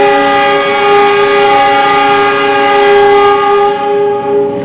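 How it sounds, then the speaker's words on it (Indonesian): A Turangga passenger train sounds a long, loud, steady horn blast as it departs, with the tone sustained throughout and fading slightly near the end. "dari jalur 3 kereta api Turangga persiapan diberangkatkan"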